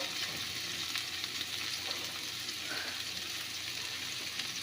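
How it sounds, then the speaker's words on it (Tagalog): Pork adobo, Chinese style, sautéing in a pan: a steady, close sizzle of frying meat that runs without a break, with faint stirring scrapes and no voices. "Igisa na natin yan."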